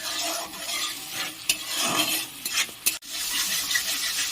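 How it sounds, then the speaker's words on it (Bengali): Chhana (cottage cheese) stir-fries in a pan with spice paste, giving a continuous close sizzle and scraping stirs, with a few sharp spoon knocks against the pan. "এটা এবার আমি ভালো করে কষিয়ে নেব।"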